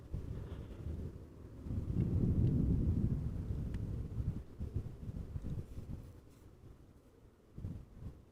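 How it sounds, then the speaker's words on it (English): Wind blowing at Amsterdam Schiphol Airport gives a low, rumbling gust that swells in the middle, then fades to a quieter buffeting with one brief late surge. "Indeed, a bit more wind"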